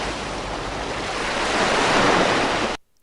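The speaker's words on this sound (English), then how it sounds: "ocean breeze," Ocean breeze setting on a portable white noise machine: a loud, steady wash of surf and wind that swells slightly toward the end, then stops abruptly.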